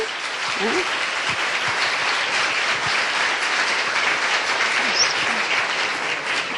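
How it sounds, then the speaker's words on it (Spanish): An audience at a session on job opportunities in the European institutions gives a strong round of applause for Isabel and Enrique, a steady, close clapping that fills the whole stretch. "damos un fuerte aplauso a Isabel y Enrique"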